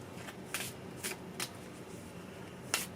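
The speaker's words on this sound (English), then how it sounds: "shuffle these a little bit." Deck of cards shuffled by hand at close range, several quick, crisp riffling bursts separated by short pauses in a quiet room.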